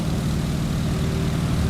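Steady, loud drone of a Stearman biplane's propeller and radial engine at full prop RPM on a landing approach in Microsoft Flight, an unbroken low rumble with an even buzzing hum throughout, no talking.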